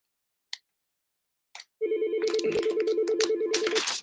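A telephone ringing for a call-in show, heard as a loud, steady electronic warble that starts abruptly after two brief clicks and continues unbroken for about two seconds in a quiet room.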